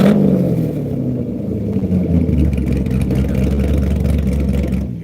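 A car engine with a 3-inch straight pipe and no mufflers runs loud and close, rumbling low as it revs up toward 3,000 RPM and holds a raw, throaty drone.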